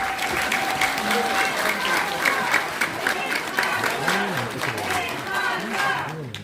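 A rally crowd in South Jeolla claps to welcome a speaker at a Democratic Party protest against prosecutors, sustained loud applause with cheering and shouted voices rising over it.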